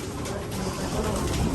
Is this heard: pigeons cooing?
yes